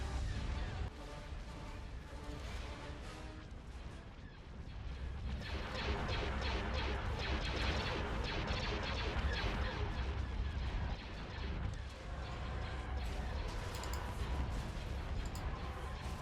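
Laser cannons fire during a Star Wars Thrawn's Revenge space battle, a dense, continuous barrage of crackling blasts and crashing impacts, steady and layered throughout with no pauses.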